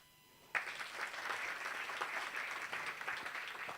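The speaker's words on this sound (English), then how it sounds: "I would like us to clap hands for the partners who have made Earth Hour for the past years possible." An audience at an Earth Hour event claps for its partners, applause breaking out suddenly after a quiet moment and continuing as a steady, dense patter of many hands.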